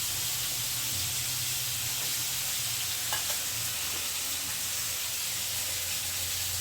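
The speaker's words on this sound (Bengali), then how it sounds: "আলুটাকে এখন ভাজি নিয়ে অল্প লাল লাল করে হালকা বেশি না" Potatoes fry in a pan with a constant close hiss and sizzle and a few faint clinks of stirring. A low background hum sits underneath.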